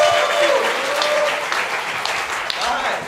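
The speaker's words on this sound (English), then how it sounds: "Let's give them another round of applause." Audience applause fills a hall after passionate student speeches at a school club fair, a steady dense wash of many hands clapping with some crowd voices mixed in.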